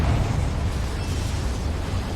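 A Confringo blasting spell bursts in Hogwarts Legacy as a loud, rumbling explosion that fills the moment and holds steady as a dense low roar for a couple of seconds.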